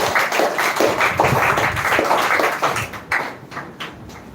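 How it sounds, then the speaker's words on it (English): Audience applause at a spoken English grand finale performance, dense clapping filling the room for about three seconds before thinning into scattered, tapering claps. "Please again give a huge round of applause to her"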